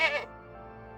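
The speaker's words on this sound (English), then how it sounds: "Goat." Goat bleat, a short nasal cry heard close and clear at the start before trailing into a low background hum.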